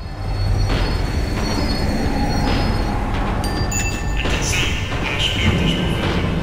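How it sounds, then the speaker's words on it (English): A tram slowing down in Max Payne 3 fills the scene with a steady rail rumble and clatter, while high metallic wheel squeals rise and whine over it toward the end, loud and close. "The tram was slowing down, and I'd only just gotten on board."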